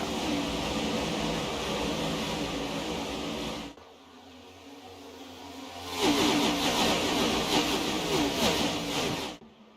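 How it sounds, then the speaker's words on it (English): Next-gen stock cars at speed through turns 1 and 2 at Nashville Superspeedway, a loud continuous engine roar that dips briefly and then swells again as the pack passes close by. "Listen to the music of these next-gen stock cars as they roll through turns 1 and 2."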